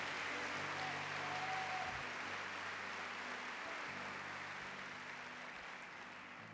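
A church congregation applauds together during a sermon, a dense, steady roar of clapping that fades slowly toward the end, with low organ or keyboard notes sustained underneath.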